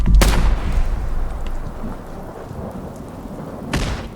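Frag mines exploding in Fallout 4: two loud blasts about three and a half seconds apart, each followed by a low rumbling tail.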